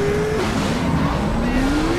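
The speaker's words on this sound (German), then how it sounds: "Da blasen Flammen aus dem Auspuff, du. Das ist, das ist ja ein Monster hier." A car engine in the video game The Saboteur roars loudly, its pitch dipping and then climbing steadily as it accelerates.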